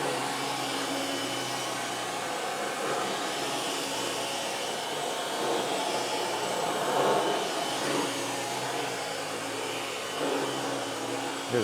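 A 1992 Dirt Devil Broom Vac Model 702 motor runs steadily with a constant whirring drone, close and unbroken, with no talking, its belt slipping badly and almost stalling the brush roll.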